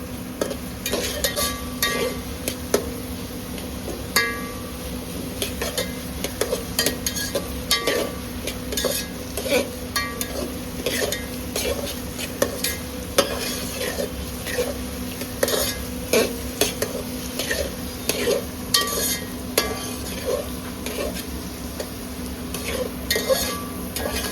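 A spoon scrapes and stirs ginger, garlic and chili paste in a pan for pulao, with light sizzling underneath; the clinks and scrapes repeat steadily and close up throughout.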